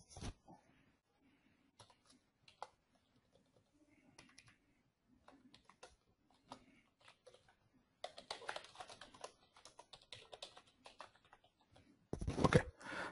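Soft, scattered computer keyboard keystrokes, sparse at first and then denser in faster runs near the end, close by and quiet with no talking.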